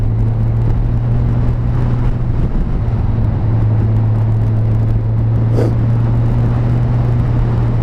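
A Kawasaki Z1000SX motorcycle cruising with a steady, low engine drone and constant rushing wind noise, held at an even level throughout with no talk.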